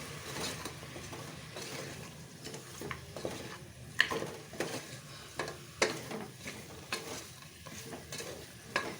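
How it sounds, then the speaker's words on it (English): Chicken curry sizzling in a pan as dry masalas and salt are stirred through, with continuous frying hiss and repeated scraping strokes of a spoon against the pot, close and fairly loud. "Stir that also very well."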